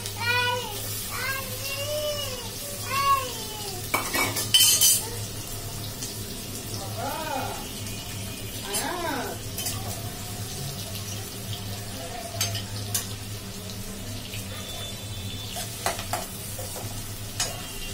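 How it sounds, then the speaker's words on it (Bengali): Onion and green chili fry in hot oil for a Bengali curry of hilsa fish, potato and ash gourd leaves, a soft sizzle under stirring clatter, with bursts of running water and a few faint squeaky tones. "তেলটা গরম হয়ে গেছে, আমি এতে অল্প একটু পেঁয়াজ এবং কাঁচামরিচ দিয়ে দিব।"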